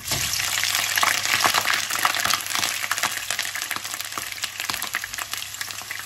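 Chopped onions frying in hot oil for a spicy vegetable pulao, a steady close sizzle that continues without a break and has no talking over it.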